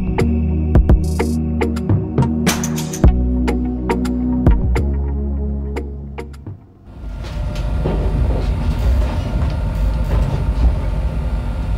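Dharmawangsa passenger train on the Surabaya–Jakarta route, heard from on board as it arrives at Semarang Tawang station: loud rolling rumble with repeated sharp clanks over rail joints, then a brief lull before a broad, steady roar resumes.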